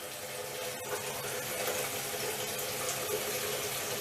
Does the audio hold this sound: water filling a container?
yes